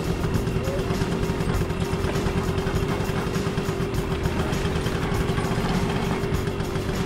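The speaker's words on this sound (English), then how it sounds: "So we're riding along with Stephen." Steady engine drone of a vehicle carrying passengers along a road toward a field center near Bwindi, Uganda, running continuously at an even level throughout.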